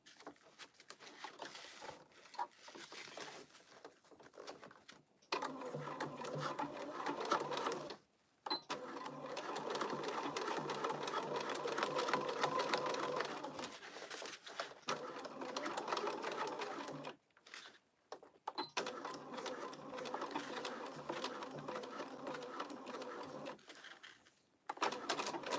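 Sewing machine stitching a crossbody bag, long runs of fast rhythmic whirring broken by short pauses, close and fairly quiet, with occasional talk in the background.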